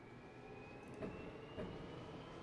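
An old Yamanote Line train runs in the Densha de Go! Hashirou Yamanote Sen video game, a low steady rumble with a faint whine and two soft clunks, quiet and continuous.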